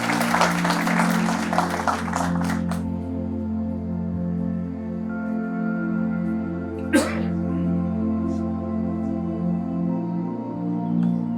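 An audience claps to welcome a speaker at an event, a dense burst of applause over the first few seconds that fades out, leaving a steady low hum.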